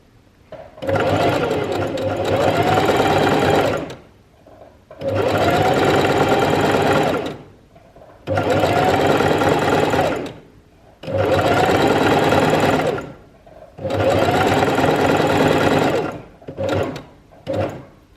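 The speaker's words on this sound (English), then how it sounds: "So we're just going to put our foot on the pedal and stitch all the way to the bottom." An electric sewing machine stitches fabric in five long, loud runs of rapid mechanical whirring, each lasting a few seconds with short pauses between, and a couple of brief bursts at the end.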